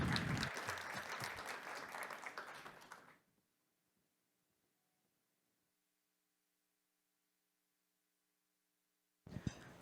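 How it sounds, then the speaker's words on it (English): Audience applause welcomes panelists at a public health panel discussion in Canada: a loud, full round of clapping for about three seconds that fades into near silence, then a short new burst at the very end. "I think we should do another round of applause to welcome our wonderful panelists."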